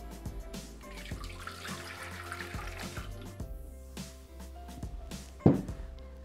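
Water splashes and gurgles into a Thermomix jug at close range, with a few clinks and knocks of kitchen handling and a sharper clatter near the end.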